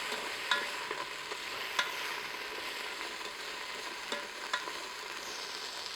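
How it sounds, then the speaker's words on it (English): Steak, potatoes and green beans sizzle in a Ninja Foodi while a utensil stirs seasoning through them, soft scraping with a few sharp clicks over a steady frying hiss. "Stir all that up."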